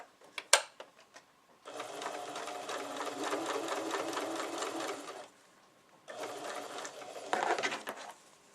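A sewing machine running a quarter-inch seam on fabric, two steady whirring stretches of rapid stitching separated by a short pause, close and clear with a few small clicks around them and no speech.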